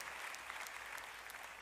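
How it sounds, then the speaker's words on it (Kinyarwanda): A church congregation claps together in steady, dense applause during a service, loud and continuous throughout the short burst with no talking over it. "mukomere Imana amashyi"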